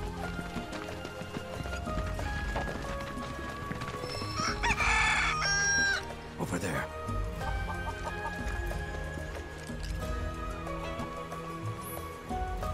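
Chickens cluck and a rooster crows in Final Fantasy VII Rebirth, set over a steady bed of game music and hoof-like clopping, with a short spoken remark near the start.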